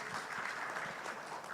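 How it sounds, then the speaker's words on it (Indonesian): Audience applause at an Indonesian commemoration of World Day Against Trafficking in Persons, steady and moderately distant, a dense even wash of clapping holding for the whole short stretch without voices. "Tepuk tangan dulu untuk Pak Anton."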